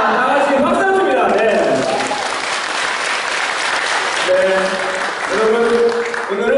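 Audience at a Korean book concert with author talk claps loudly and continuously, while a voice speaks over the applause.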